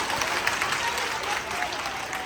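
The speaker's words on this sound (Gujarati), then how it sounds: "ભાઈ તાળીઓ પાડો યાર" Applause from a group of women gathered at a village reunion of daughters, a dense steady patter of clapping heard close, with voices mixed in.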